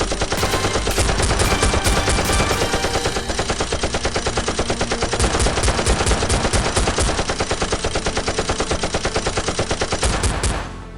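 Rapid, loud, dense rattling bursts of gunfire in a toy Nerf gun battle fill the scene almost without pause, sounding more like a heavy machine-gun effect than foam darts.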